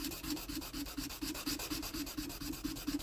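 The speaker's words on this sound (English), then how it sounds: "Just do a bit of hand sanding on this handle so I don't have any deep scratches to remove later." Bowie knife handle sanded by hand with quick, even back-and-forth strokes, a soft rasping scratch repeating steadily at close range.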